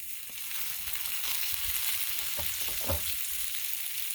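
Oil sizzling on a Blackstone griddle before corn on the cob goes on, a steady close hiss with a few brief crackles and scraping touches, no voices.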